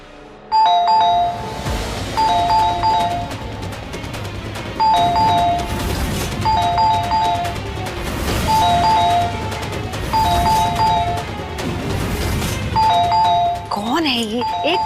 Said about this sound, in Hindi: भाई घंटी तोड़ देगा क्या?